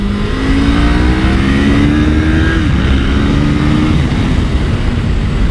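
A Kawasaki Ninja 500 sport motorcycle in race trim screams loudly on a racetrack, its engine pitch climbing steadily through the gears with a brief dip around the shift, close and continuous with no talk.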